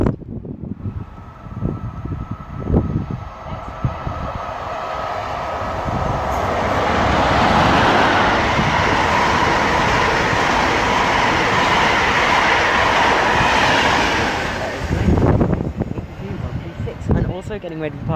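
A train passes through Romford station on the Great Eastern Main Line, swelling into a loud rushing roar with rattling wheels that peaks midway and fades, with clicks before and after and speech at the edges.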